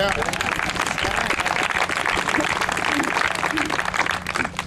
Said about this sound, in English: sure, we can applaud for that